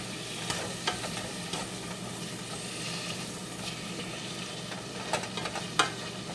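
Sausage sizzling in a pan for chili while being broken into small pieces, a constant crackling fry with scattered scraping and tapping of a utensil against the pan, no voices.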